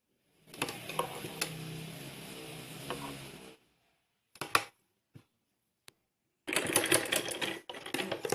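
Sewing machine stitching buckram into a fancy blouse back design, rapid clattering runs in several bursts separated by pauses, close and alone.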